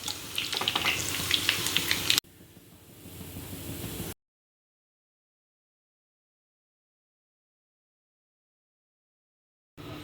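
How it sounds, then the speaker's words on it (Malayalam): Fish pieces for a fish pickle fry in hot oil, a loud crackling sizzle for about two seconds, then a softer hiss before the sound cuts to silence. "എന്നിട്ട് ഇനി എല്ലാം വറുത്ത് കോരി എടുക്കണം. നല്ലതുപോലെ മൊരിയണം കേട്ടോ."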